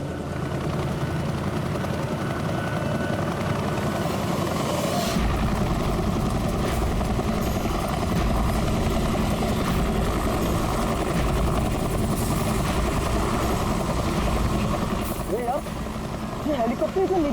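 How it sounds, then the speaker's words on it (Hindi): A helicopter drones continuously overhead in a loud, steady rotor-and-engine roar, with people talking beneath it throughout. "ये हेलीकॉप्टर इतना नीचे क्यों उड़ रहा?"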